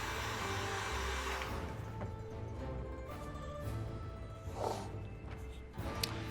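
A heat gun blows steadily on EVA foam being warmed to curl it for a gauntlet, a continuous broadband whoosh with some shifting and brief knocks of handling near the end.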